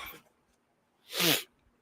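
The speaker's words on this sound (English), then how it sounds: "If I choke, I cough and sneeze." A single sharp sneeze bursts out, loud and close, after a faint breathy intake a moment before.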